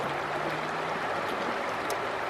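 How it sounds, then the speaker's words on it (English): A glacial river in Banff National Park rushes by close at hand, a steady, dense broadband wash of flowing water with no pauses and no voices. "there's a river here, and we're assuming it's glacial waters"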